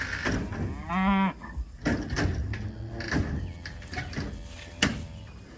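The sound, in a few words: Angus cattle mooing on a trailer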